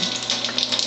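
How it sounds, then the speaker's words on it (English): A Tyent or Vesta water ionizer dispensing acidic water gives a steady, close-up hiss of running water, like a tap filling a container, continuous with no pauses. "I'm going to get some acidic water too at this level."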